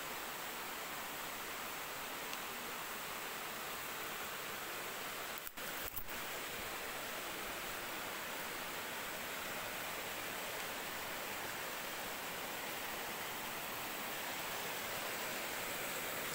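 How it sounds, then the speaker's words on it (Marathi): A river flows steadily with a constant broadband rush of water, soft and unbroken throughout, with no voices. "ही आमची नदी"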